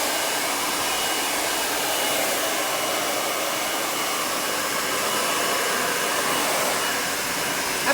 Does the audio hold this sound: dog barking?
no